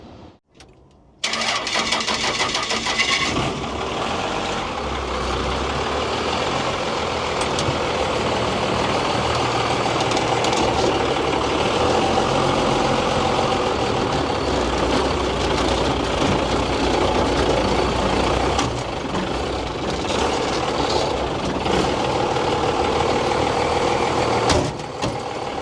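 A 1956 big rig fitted with a swapped-in Cummins diesel cranks over and fires, then settles into a steady, loud, rumbling idle that runs on without talk.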